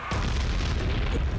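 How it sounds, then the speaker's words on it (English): The boss Doom explodes in the video game Sonic X Shadow Generations with a sudden, heavy, booming blast that rolls on as a sustained low rumble for over a second, loud and with no talk. "the ending of Doom just straight up exploding will never not be hilarious to me"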